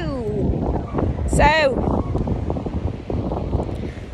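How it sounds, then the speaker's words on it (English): Wind rumbles and gusts against the microphone near horses while a person speaks briefly and a high whistling or squeaky call rises midway. "might be a bit windy"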